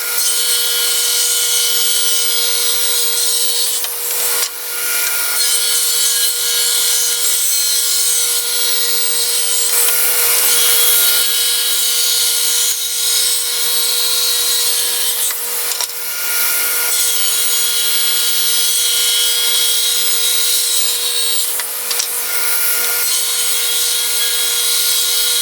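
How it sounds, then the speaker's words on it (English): Saw ripping wooden strips to final width, a steady, loud, continuous bright whine of blade cutting through wood with no pauses. "we'll cut our stripes to the final width"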